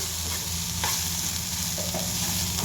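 Egg bhurji with green chilies and chili powder frying in a hot pan, a steady loud sizzle filling the clip while a spoon stirs it up close, a few soft scrapes breaking through; no voices.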